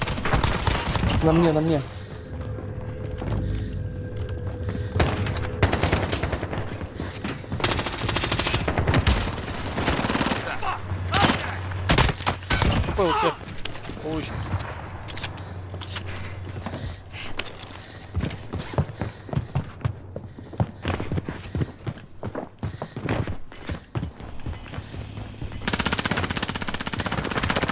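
Gunfire in Call of Duty Warzone: repeated bursts of automatic fire and scattered single shots, some close and loud, others more distant, running almost continuously beneath a player talking.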